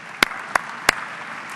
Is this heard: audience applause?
yes